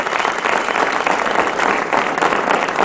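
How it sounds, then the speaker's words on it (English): Studio audience applause on a 2005 CNBC talk show, steady dense clapping at close range that holds evenly for about three seconds with no voices over it. "I think that deserves a round of applause, don't you?"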